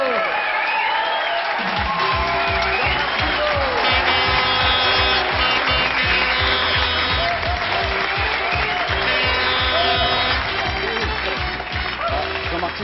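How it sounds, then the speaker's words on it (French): Studio audience applause on a French television variety show, a broad steady wash of clapping that builds after a second or so and carries on with a loud rhythmic music beat and a presenter's voice over the top. "on les applaudit, bravo"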